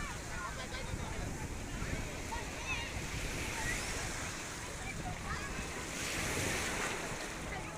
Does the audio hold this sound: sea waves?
yes